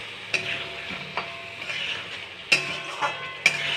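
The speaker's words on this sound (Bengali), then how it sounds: "এটা ততক্ষণ কষাতে হবে যতক্ষণ না এটা তেল ছাড়বে।" Mutton fat curry being stirred and sautéed in a pan until the oil separates, with a steady sizzle broken by sharp scrapes and clinks of the spoon at irregular moments, close and clear with no talking.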